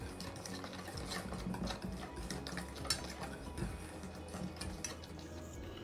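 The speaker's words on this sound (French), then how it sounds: "ma poudre d'amande, ma farine et je mélange les ingrédients secs" Almond powder and flour being mixed together in a bowl, a close, steady scraping and stirring rustle with small clicks, continuous and without speech.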